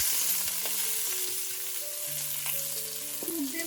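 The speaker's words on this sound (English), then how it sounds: "to it I have added 1 tablespoon of the same fried oil. I'm going to add in the sliced onions now." Sliced onions sizzle in hot oil in a wok, a steady, close, bright frying hiss with faint tonal background sounds and no talking.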